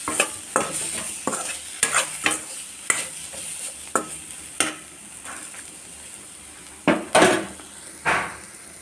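Drumstick (moringa pod) fry being stirred in a pan, a spoon scraping and knocking against the metal in regular strokes over a low sizzle, close and fairly loud.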